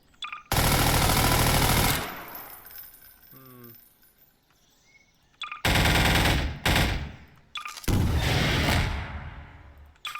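Loud bursts of rapid gunfire in Garry's Mod NPC battles, in several long volleys, separated by a quieter stretch with faint clicks and rattles.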